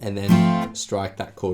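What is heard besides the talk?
No everyday noises stand out.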